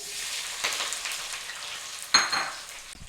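Onion and hot pepper frying in extra virgin olive oil in a 5-quart pot over high heat, a steady soft sizzle with light stirring clinks and one sharper metallic tap, no talking.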